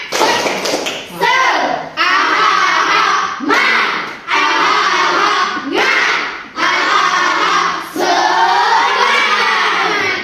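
Schoolchildren in a classroom do a spirit-clapping routine, loud rhythmic claps punctuated by group chanting and shouting in repeated phrases, close and lively.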